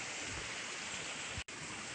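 Stream water runs steadily with a dense, even rush that holds at one level for two seconds, broken only by a brief dropout near the end.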